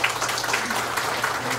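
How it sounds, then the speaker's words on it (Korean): An audience at a church general assembly worship service claps in steady, dense applause that stays even throughout, moderately loud, with a low hum underneath. "그분들을 위해서 우리 박수 한번 해드립시다."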